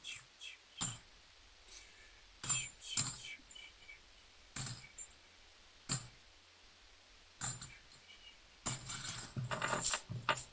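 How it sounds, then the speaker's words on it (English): Half dollar coins clink and jingle in a series of sharp metallic bursts, sorted from a box, with a denser rattle near the end; close and fairly quiet, no talking. "Listen to the coins."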